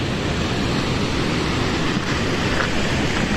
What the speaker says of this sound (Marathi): ह्यो धबधब्याचं पाणी खालते जातं